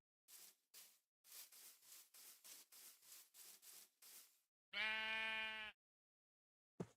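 Sheep in Minecraft give a rapid run of short, loud bleats, about a dozen bursts in quick succession. A longer tonal bleat follows, then a brief click near the end, with no talk.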